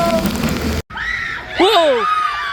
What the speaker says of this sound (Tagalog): Bakit malakas pa rin ang ulan?